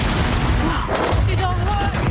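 Confringo fire spell blasts from a Hogwarts Legacy combat fight with poachers, a dense, loud run of bursts and booms over continuous battle noise and music for about two seconds, with a voice talking over it.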